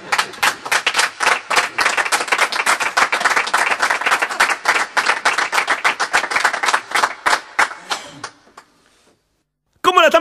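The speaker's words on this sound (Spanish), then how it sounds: "aplauso, por favor" Audience at a comedy show clapping in a long dense burst of applause that fades out near the end, followed by a brief loud voice after a short silence.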